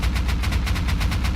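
Rapid automatic fire from an AK rifle fitted with a muzzle boost in the video game Rust, a steady burst of about a dozen evenly spaced shots, loud and close, with no talking.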